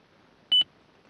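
A Toyota Corolla E120/E130 dashboard gives two quick, clear electronic beeps in fast succession as a button is held, close and alone in a quiet cabin.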